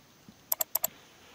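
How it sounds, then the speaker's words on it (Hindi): Quick mouse clicks on a computer while opening the OSBuddy game client, two crisp double clicks, close and distinct against a quiet background. "मैंने इस पर किया डबल क्लिक"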